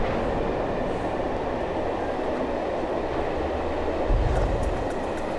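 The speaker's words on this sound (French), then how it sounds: "Les sources de bruit ferroviaire," A train rumbles steadily along the rails, a continuous low roar with a heavier thump near the end.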